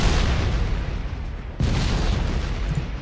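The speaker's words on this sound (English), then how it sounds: "Couldn't hear you over the sound of my explosions" Heavy, rumbling booms of explosions in the game Factorio fill the mix, a sustained roar of blasts with a sharp new burst partway through, loud and close.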